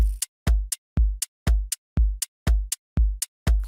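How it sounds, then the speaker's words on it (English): A plain, repetitive drum loop of deep kicks with short hi-hat ticks between them, clean and evenly spaced with no variation, in a mechanical steady rhythm with no voices. "take a boring hi-hat loop that sounds like this"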